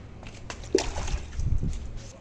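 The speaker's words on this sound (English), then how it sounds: "I am carefully putting water on the bike." Water is poured over a Triumph sports bike during a wash, giving short splashes and sloshes up close, a couple of brief bursts over a quiet background.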